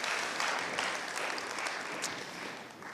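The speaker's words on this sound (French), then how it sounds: "Est-ce qu'on peut les applaudir?" An audience at a Christmas gathering applauding the musicians, a dense, steady wash of clapping from many hands, fairly distant and even.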